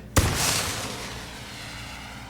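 An artillery shell explodes in a war movie set in 1917, one sudden loud blast followed by a long rumbling decay with lingering debris noise.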